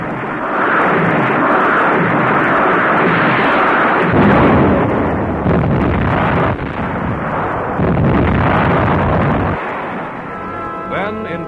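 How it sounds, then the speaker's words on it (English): Navy rockets exploding on the beaches of Okinawa in an old wartime newsreel, a dense, continuous roar of blasts and rumbling bursts, loud and close, with brief gaps before the barrage resumes. "Rockets for just such targets as the beaches of Okinawa."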